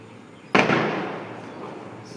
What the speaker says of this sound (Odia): ବାଣ ଫୁଟିଲା।